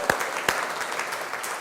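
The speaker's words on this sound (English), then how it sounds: "Give yourselves a big round of applause." Audience applause in a seminar hall after a group rhythm exercise: a sustained burst of clapping from many hands, fairly close, with a couple of sharper claps standing out near the start.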